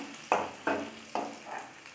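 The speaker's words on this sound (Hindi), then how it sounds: "इसे थोड़ी देर भून लेंगे।" Ingredients for methi matar malai paneer fry briefly in a pan, heard as a few soft, quiet bursts of sizzling and stirring about half a second apart.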